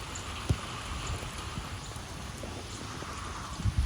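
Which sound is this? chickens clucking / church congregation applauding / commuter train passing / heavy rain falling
heavy rain falling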